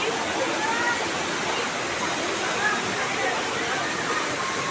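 A waterfall at Takah Pengkuy, a camping and bathing spot, roars close by in a steady, dense rush of falling water that fills the whole clip without pause.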